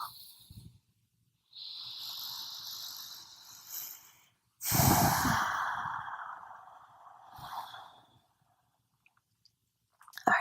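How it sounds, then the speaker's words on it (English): Long, breathy exhales during a yoga class come close to the mic, several drawn-out airy breaths separated by short pauses with a soft rustle. "Deep exhale."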